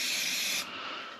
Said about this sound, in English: Spray some brake clean on a rag, and then carefully clean around.